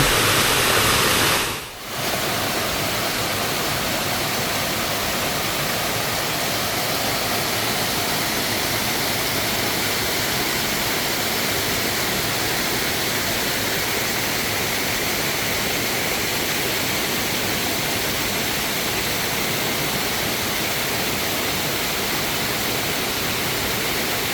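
Roaring waterfall at Garganta do Diabo in Lages, a dense, constant broadband rush of falling water, loud and close and unchanging throughout, broken only by a momentary dropout near the start.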